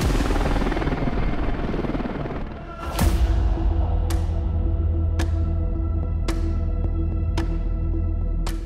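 A helicopter of the kind used in India's defence forces whirs steadily and loudly, with a sharp rhythmic thump of the rotor blades repeating about once a second and no speech.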